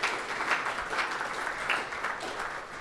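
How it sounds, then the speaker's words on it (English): An audience applauds at a birthday celebration, dense, even clapping that holds steady throughout and fades slightly toward the end. "Yeah, you can clap."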